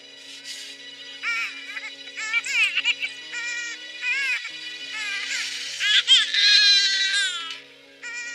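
A baby cries on and off for several seconds in a historical drama scene, high wavering wails with short breaks rising to a louder stretch, alone without talk.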